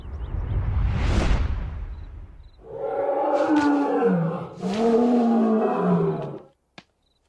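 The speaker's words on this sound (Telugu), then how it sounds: "కుక్కపిల్ల కాదు, పులి." A tiger sound effect in a Telugu comedy film scene: a rushing roar builds, then two long, loud, growling roars follow back to back and cut off abruptly.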